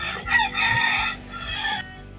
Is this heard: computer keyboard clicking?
no